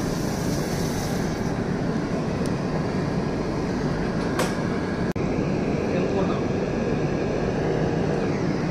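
A passenger train runs steadily between Vizag and Araku, heard from inside a Vistadome glass coach as a loud, continuous rumble and wheel roar with a couple of sharp clicks partway through.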